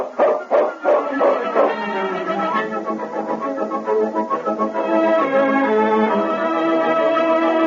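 A dog, the canine hero of an old radio adventure, barks several times in quick succession, then howls in a long sustained cry, loud and close with music swelling beneath.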